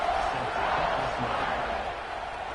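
Football stadium crowd before kickoff, a broad continuous roar of many voices filling the space, with a commentator's voice talking over it.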